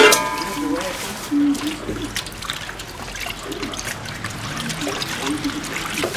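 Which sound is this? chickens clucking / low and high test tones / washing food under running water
washing food under running water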